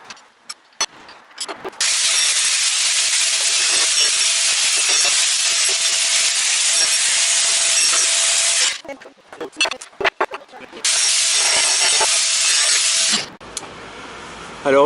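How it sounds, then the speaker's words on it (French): A grinder with a deburring disc works welded steel profiles for a monitor stand, grinding loudly in two long continuous passes. Short clatters and a pause come between the passes. "on va utiliser la meule à ébarber pour progressivement rejoindre les profils"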